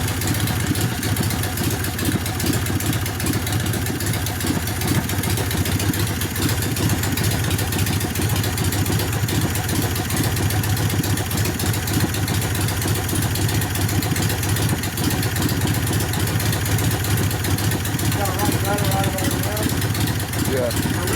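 A 1972 Harley-Davidson Sportster Ironhead bobber with a custom advance curve idles steadily after a kick start, a loud, close, constant rumbling engine lasting the whole stretch, with people talking over it.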